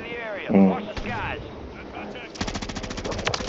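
Rapid automatic gunfire in the video game Warzone 3, a burst of evenly spaced shots near the end, with players talking over the action.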